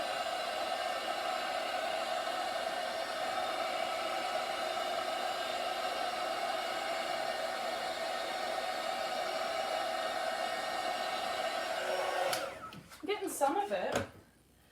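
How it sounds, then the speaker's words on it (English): A heat gun blows on an acrylic Dutch paint pour, a steady close whooshing hiss that runs for about twelve seconds before cutting off amid a few brief clatters. "Hit it with the heat gun again,"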